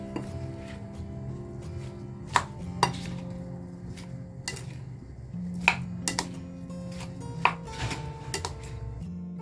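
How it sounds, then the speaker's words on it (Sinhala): Cauliflower salad tossed with a tomato and salt mixture in a bowl, with soft mixing rustles punctuated by several sharp utensil clinks against the dish, close and fairly quiet. "දැන් අර තක්කාලි ලුණු මිශ්‍රණයත් එක්ක මේක හොඳට අපි කලවම් කරමු."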